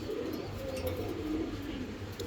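Fancy pigeons coo softly and steadily close by, low rolling calls repeating over a constant background murmur.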